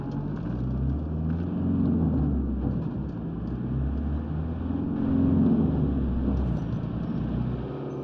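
A vehicle driven in the video game Squad gives a loud, continuous engine drone with a low rumbling growl that swells and eases slightly as it moves, with no talking.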